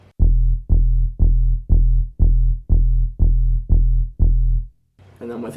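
An unprocessed kick drum sample from Spitfire Audio Media Toolkit, struck nine times in a steady, even pulse, each hit a deep booming thud with a quick decay, followed by a brief noisy moment at the end.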